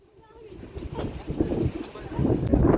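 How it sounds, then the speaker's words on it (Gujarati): Wind gusts across a mountain viewpoint on Girnar, a rough low rumble of buffeting against the microphone that builds steadily louder over a couple of seconds. "પવન તો સંભળાતો જ હશે તમને."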